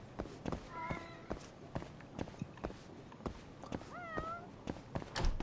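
Stray cats in the video game Judgment give two distinct meows, one early and one later, over a steady rhythm of close footsteps.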